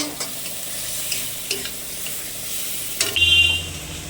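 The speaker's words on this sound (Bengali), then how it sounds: "এক চামচের মতো হলুদ গুঁড়ো দিয়ে দেব দিয়ে একটু নাড়তে থাকবো" Turmeric powder is stirred into chopped figs frying in a pan, with a steady sizzle and soft spoon scrapes at intervals, then a brief honking tone from outside near the end.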